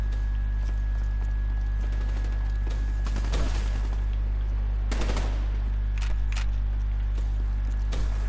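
Gunfire in Call of Duty: Black Ops III, with sharp bursts and single shots cracking at irregular intervals over a constant low electrical hum.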